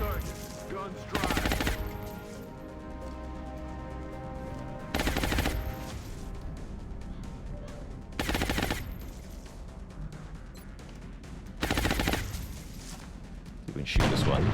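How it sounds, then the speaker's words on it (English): Suppressing gunfire rattles in XCOM: Enemy Unknown, with five loud bursts spaced a few seconds apart over a steady tonal game soundtrack. "Suppressing fire on target."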